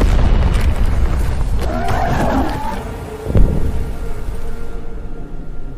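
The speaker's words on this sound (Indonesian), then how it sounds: "mendengar suara ledakan tersebut dari kejauhan" A loud, deep boom from an explosion in a zombie film rumbles heavily, followed by a second low thud and a fading roar before quiet.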